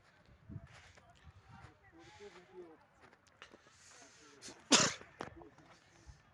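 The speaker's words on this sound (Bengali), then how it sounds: "কাশি হচ্ছে অল্প অল্প" A person coughs in the freezing wind at Zero Point in Sikkim. There are small scattered coughs, then one sharp, loud burst near the end, amid quiet talk and light background noise outdoors.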